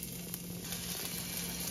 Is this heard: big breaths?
no